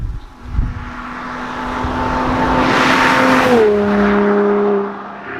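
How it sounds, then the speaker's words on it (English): A car's exhaust drones as it drives past, the steady engine tone swelling as it nears, peaking loud and close, then dropping in pitch and fading as it moves away. "If you guessed correctly, it was the exhaust."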